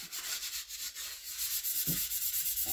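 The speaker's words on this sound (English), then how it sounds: "So we'll give that just a scuff. To get rid of it." Scuff sanding a part on a 1962 Chevrolet Impala, quick repetitive rubbing strokes of abrasive on the surface, close and rhythmic, getting faster toward the end, no talking.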